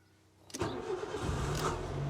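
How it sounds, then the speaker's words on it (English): A Nissan Micra K11 engine cranks and catches after a quiet moment, in neutral, then runs roughly for a second or so before cutting out, loud and close. "it started. And then it cut out straight away"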